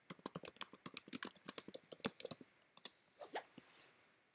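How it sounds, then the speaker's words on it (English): Fingers tap out a search on a computer keyboard, a quick run of crisp, close key clicks that slows into a few scattered presses before stopping. "So in Google, this is what we're going to type."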